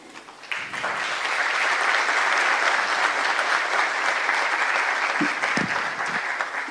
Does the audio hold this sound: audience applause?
yes